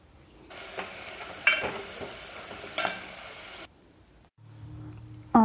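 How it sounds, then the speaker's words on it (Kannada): Finely diced potatoes go into hot oil in a pan and hiss steadily, broken by several sharp metallic clanks of a stirring utensil against the pan, close and clear, with a brief lull near the end. "ಎಣ್ಣೆ ಕಾದ್ಮೇಲೆ ಅದಕ್ಕೆ ನಾವು ಸಣ್ಣದಾಗಿ ಕಟ್ ಮಾಡಿದ್ದ ಆಲೂಗಡ್ಡೆನ ಸೇರಿಸ್ಕೋತಾ ಇದ್ದೀನಿ"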